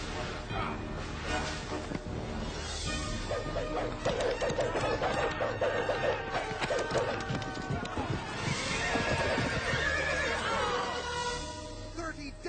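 Horses whinny and neigh in a battle scene from a film about Muhammad, several loud cries over clattering hooves, crashes and background music, with talking mixed in.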